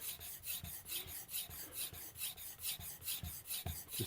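A wood chisel is sharpened on a Tormek T8 sharpener: a close, steady rasping scrape repeats in an even back-and-forth rhythm, with no voices.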